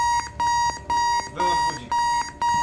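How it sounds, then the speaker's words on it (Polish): An electronic alarm clock in the video game Keep Talking and Nobody Explodes beeps in repeated bursts, about five short rings, loud and close, with faint voices underneath. "Wyłącz budzik."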